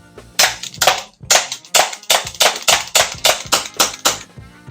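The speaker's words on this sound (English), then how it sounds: "This is Airsoft by little plastic balls, and it's good fun." An airsoft gun shoots little plastic balls in a quick series of about a dozen sharp, close snapping pops, loud and alone.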